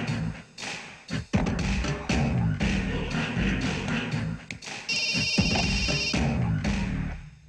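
A telephone rings in a Telugu comedy film scene, a short bright electronic trill sounding midway amid thumps, taps and room noise.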